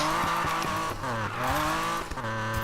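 A BMW M3 drift car with a Rocket Bunny kit in Need for Speed Payback, its engine revving hard and rising and falling in pitch through gear changes, loud and close, with tire squeal mixed in.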